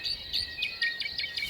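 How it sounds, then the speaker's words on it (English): Small wild birds at a campsite chirp in quick, repeated high tweets close by, a busy run of bright calls over quiet background. "there's just crazy bird life here"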